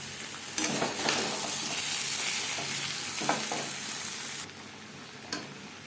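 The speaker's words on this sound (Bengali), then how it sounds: "লবণ হলুদ দিয়ে আলু ভেজে নেব" Potato pieces with salt and turmeric fry in oil, giving a steady close sizzle broken by several stirring scrapes and a couple of utensil knocks, no talking.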